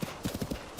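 A horse's hooves clip-clop steadily at a trot in Zelda: Tears of the Kingdom, an even rhythm of muffled thuds under a dense wash of game ambience and music.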